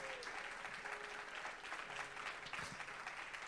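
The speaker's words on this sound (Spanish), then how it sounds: "Alguien hambriento que le dé un aplauso al Señor." A church congregation breaks into steady, loud applause, dense clapping sustained throughout with a faint murmur of voices beneath.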